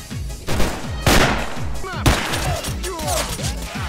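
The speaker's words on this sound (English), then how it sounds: "We're getting shot by bandits." Gunfire from bandits in the video game S.T.A.L.K.E.R. Anomaly: loud, rapid overlapping shots and bursts with whizzing ricochets, continuous over a dense noisy background, with a voice briefly audible.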